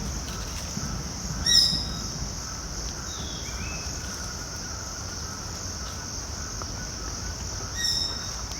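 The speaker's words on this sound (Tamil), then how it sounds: "பறவைகளோட சத்தங்கள், பூச்சிகளோட சத்தங்கள்" In the dense Udawatta Kele forest in Kandy, insects shrill continuously in a steady high drone, and brief bird calls break through twice, once early and once near the end.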